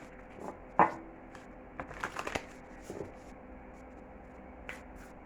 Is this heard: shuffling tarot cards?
yes